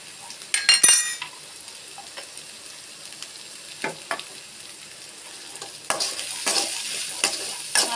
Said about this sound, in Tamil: கடுகு, எண்ணெய், உளுத்தம் பருப்பு, வெங்காயம், வரமிளகாய் போட்டுலாம் தாளிச்சுக்கணும்.